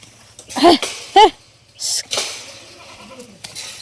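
Two loud nearby goat bleats in quick succession, followed by quieter rustling and a faint further call.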